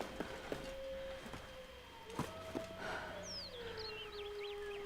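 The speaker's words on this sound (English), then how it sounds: "the grindy metal noises that try and sound like they're a bear" In The Long Dark, eerie grinding metallic noises moan and creak with long sliding tones and a wavering high squeal, faint and distant over a steady ambient hum, punctuated by a few soft knocks.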